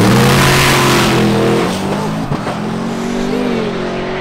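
Drag race car launching hard at a TX2K event in Houston, Texas, a loud close engine roar and high revving scream that holds and shifts pitch as it pulls away.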